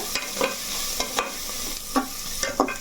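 Onions frying in a pan, a continuous close sizzle with a few sharp scraping stirs of the spoon at irregular intervals, no voices.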